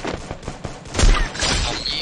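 Sniper shots and impacts in a mobile shooter game, a cluster of soft rapid pops followed by a heavier boom, fairly loud over the game's busy background.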